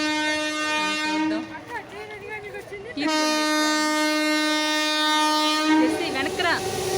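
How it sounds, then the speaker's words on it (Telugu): A train horn blares in long sustained blasts, cutting off briefly then sounding again, with rumbling rail noise beneath as the train approaches and passes near a village; a person speaks briefly over it. "ఇదిగోండి ట్రైన్ వస్తుంది చూసారా సౌండ్"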